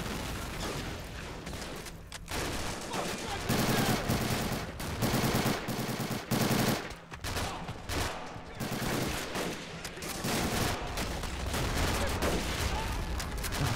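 Heavy gunfire crackles in a Flags of Our Fathers realism mod battle, with dense machine-gun bursts and rifle shots nearly continuous and loud, briefly broken by short pauses.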